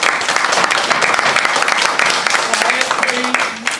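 An audience at a public meeting applauds loudly with dense, sustained clapping that fills the room for several seconds before it starts to fade.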